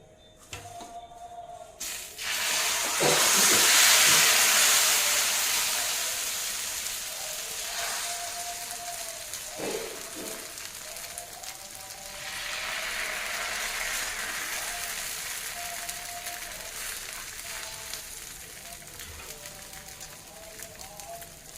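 Little millet dosa batter sizzles on a hot pan: a soft, steady hiss swells, eases off, then rises again, heard fairly quietly with no talking.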